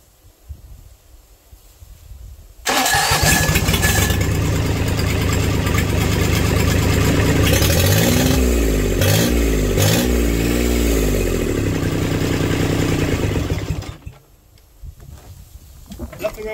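A Kubota D1105 diesel engine on a test bench cranks over and fires, then runs steadily at a loud, close, rough idle with brief revving before shutting off and leaving quiet room noise.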